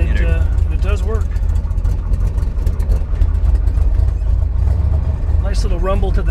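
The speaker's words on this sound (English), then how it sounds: "Nice little rumble to the side exhaust." A 1966 Corvette big-block V8 idles with a deep, steady rumble through the side exhaust, close by, while someone talks over it.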